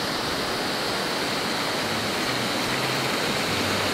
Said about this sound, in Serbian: evo nalazimo se na mestu u selu Stanci i vodopadu koga nazivaju Bigar.